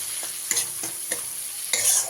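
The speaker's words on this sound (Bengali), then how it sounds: "এবারে মশলাটাকে খুব ভালো করে কষিয়ে নেব" Spiced masala for a vegetarian cabbage chorchori is stirred and fried in a pan, giving a steady close sizzle broken by periodic scraping strokes of the spoon against the pan.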